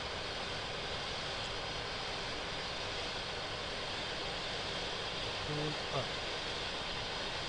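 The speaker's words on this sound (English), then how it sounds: "Air starter on. Engine spinning. RPM increasing." A Yak-40 jet engine spins up on its air starter, producing a steady, even roar and whine that holds throughout, with a brief spoken voice near the end.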